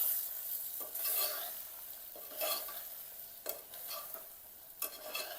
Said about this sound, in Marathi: लाल तिखट, काळा मसाला, हळद आणि मीठ टाकून घ्यायचं याच्यामध्ये. याला पण छान परतून घ्यायचं.